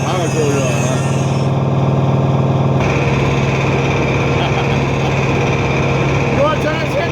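Power tools running in a shop, a steady loud droning whine that holds throughout with a shift in pitch partway, continuous and close, with voices talking over it.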